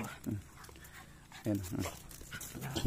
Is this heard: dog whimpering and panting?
yes